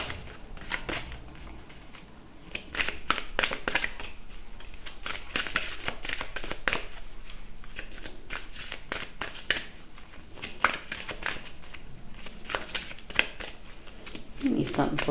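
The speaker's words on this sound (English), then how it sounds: "Let me shuffle and see what's up." Tarot cards are shuffled in quick riffling bursts, crisp snaps and flutters repeating over several seconds, with a voice talking softly in between.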